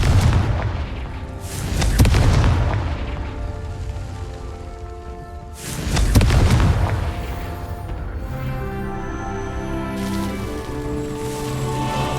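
Confringo fire spell blasts in Hogwarts Legacy, two loud booming explosions a few seconds apart, each with a rumbling burst and crackling tail, followed by lingering ambient game sound.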